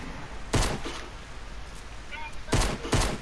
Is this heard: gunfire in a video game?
yes